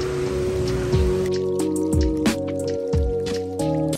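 Heavy rain at a resort in Cancun, Mexico, heard as a dense steady wash of falling water with distinct close drips landing every second or so, loud and near, with no voices.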